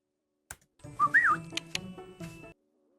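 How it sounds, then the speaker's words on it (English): A short, melodic whistled phrase from a man, rising and curling, heard faintly over soft background tones and a few light clicks, with no talking. "I put a man whistling."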